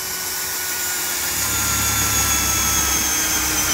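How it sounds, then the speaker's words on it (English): Power drill boring a pilot hole in metal for screws while mounting a solar panel in a van conversion, a loud, steady high whine that holds for several seconds with a low rumble beneath; no talking. "I'll run my pilot hole"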